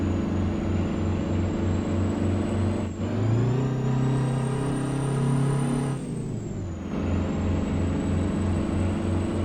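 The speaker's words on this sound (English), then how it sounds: "This engine sounds way better. It sounds closer to what I think it should sound like, particularly the engine brake." A custom Peterbilt truck with a 6V92 diesel engine in American Truck Simulator makes a steady, loud, low diesel drone. The pitch dips twice, when the engine brake comes on and when the revs change, with no talk over it.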